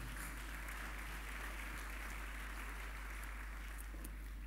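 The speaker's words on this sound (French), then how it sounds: "Quelqu'un acclame pour la parole de Dieu." A church congregation at a Sunday worship service claps in a steady, dense round of applause that stays faint and distant and keeps an even level throughout.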